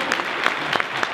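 Audience applause fills a sales event hall, a dense, steady wash of many hands clapping with a few sharper individual claps standing out, close and continuous for the whole moment.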